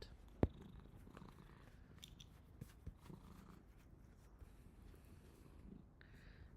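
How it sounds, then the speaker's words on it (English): A house cat purrs softly and close by, a faint continuous rumble under quiet room noise, with a single sharp knock near the start. "We have a cat."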